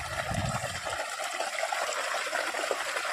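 Irrigation water flows into a farm field with a soft, steady trickle and gurgle. A low rush comes at the start.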